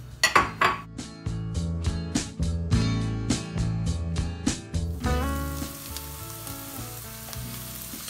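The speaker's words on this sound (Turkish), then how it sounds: "doğradığımız yeşil taze soğanlarımızı ilave ediyoruz ve iyice kavuruyoruz." Chopped green onions sizzle in olive oil in a pot, with sharp metallic clinks and stirring knocks against the pot at the start before a steady fry continues alone.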